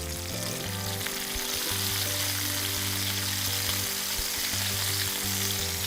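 Chicken pieces are added to a pan and fried with onion, giving a continuous close sizzle over a low steady hum, with a couple of brief knocks partway through.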